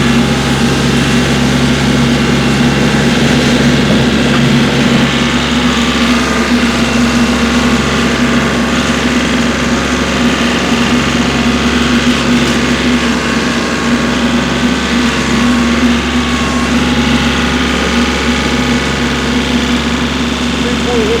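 A 2017 Kioti CK4010 compact tractor engine runs steadily at close range while working its hydrostatic loader, a continuous low drone with a strong hum and no breaks.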